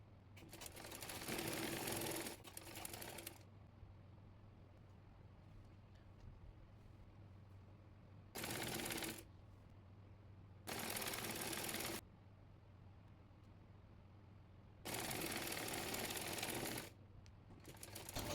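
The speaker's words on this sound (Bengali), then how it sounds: "এবার সাইড ফাড়া সেলাই করে নেব।" Sewing machine stitching the side seam of a kameez, four separate bursts of fast, steady running stitches of a few seconds each, separated by quiet pauses with low room hum.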